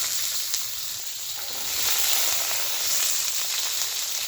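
Potatoes frying in hot oil in a pan, a steady close sizzle and hiss that swells slightly partway through, with no voices.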